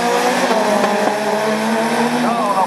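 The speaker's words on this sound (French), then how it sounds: "Superbe départ de Pinceau" Rallycross race cars in a division 4 heat at Lessay launching off the start and accelerating, a loud dense engine roar with rising revs and a brief tire squeal, steady and close, with a commentator talking over it.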